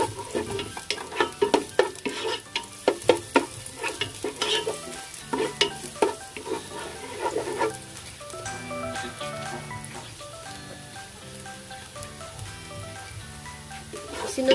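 Garlic frying in a pan, a close sizzle with a busy run of stirring scrapes and clatters early on that settles into a steadier hiss.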